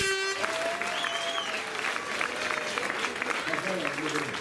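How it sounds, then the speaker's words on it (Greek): Applause from a crowd at a mayoral candidate's campaign speech in Molaoi, dense sustained clapping filling the space throughout, with a voice speaking over it. "δεν θα έχετε κουραστεί να χειροκροτείτε"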